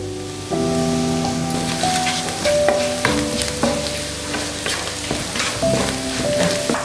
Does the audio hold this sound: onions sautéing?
yes